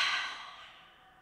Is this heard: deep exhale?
yes